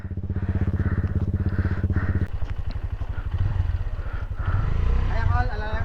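A trail motorcycle idles close by with a rapid, steady throbbing beat on a muddy mountain trail, while people talk over it.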